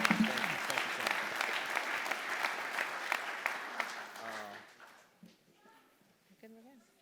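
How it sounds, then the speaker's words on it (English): Sustained applause from an audience at an Indianapolis Metropolitan Police Department honor awards ceremony, loud and dense clapping for several seconds before thinning out and fading, with a few voices and movement noises at the end. "let's give these two a round of applause again for honoring us"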